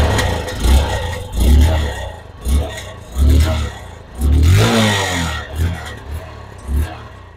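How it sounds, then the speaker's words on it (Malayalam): A Hero Honda Karizma R motorcycle engine is blipped through its exhaust in a string of short, loud throttle revs, each rising and falling in a rhythmic pattern, close to the tailpipe. "നമുക്ക് ഈ വണ്ടിയുടെ എക്സോസ്റ്റിനോട് ഒന്ന് കേട്ട് നോക്കാം."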